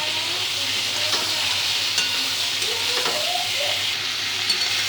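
Vegetables fry with salt, turmeric and chilli in a hot pan while a spatula stirs them, a steady loud sizzle broken by scraping strokes, with no voices.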